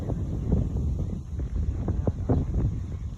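Wind near Mayon volcano, where ash is falling, buffets the microphone with a steady, low, rumbling roar and gusts.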